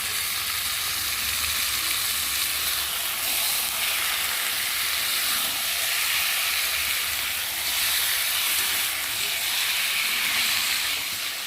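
Chicken fries in a pan of spiced masala with a steady, dense, close sizzle and hiss that never lets up, and no one speaks.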